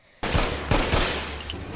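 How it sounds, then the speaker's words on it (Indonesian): Pistol shots ring out in a film scene, a sudden loud blast followed by several more rapid reports inside a dense, sustained roar of gunfire and echo. "menembakkan pistol ke segala arah"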